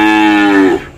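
Cattle in a farm pen give a loud, drawn-out moo lasting most of a second and fading out at the end, close to the listener with no talk.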